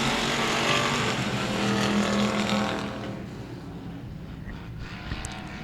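Race cars roar around the oval at Cotton Bowl Speedway, a loud, dense engine drone that sweeps past and then fades to a distant hum after a few seconds.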